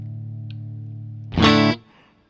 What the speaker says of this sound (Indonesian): Oke, itu tadi saya tambahin distorsi.